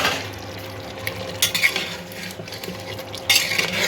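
Potatoes added to a pot and stirred, with a faint sizzle underneath and a few sharp metal scrapes and clinks of a spoon against the pot, close and fairly quiet between them.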